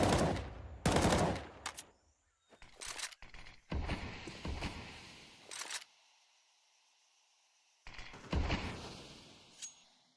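Wallbang gunfire in Counter-Strike comes as several loud rifle bursts, with rapid shots in clusters separated by short quiet gaps and a final few cracks after a pause.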